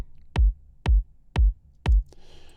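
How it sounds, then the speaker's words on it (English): Electronic kick drum sample in a music production session, four evenly spaced deep, punchy thumps with a short decay, a brief tick after the last, alone. "then I've got the actual kick here, and it sounds something like this."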